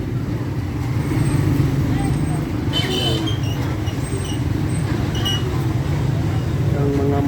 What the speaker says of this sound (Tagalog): Yan mga dumarang dito, yung mga tricycle, mga single motor, tapos mga sakyan, kaya pagkakasabay-sabay maingay